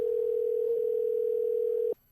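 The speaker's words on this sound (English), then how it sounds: "What you're hearing now is us calling our listener line." A steady telephone tone from a call placed to a podcast listener line holds unbroken and fairly clear for almost two seconds, then cuts off abruptly.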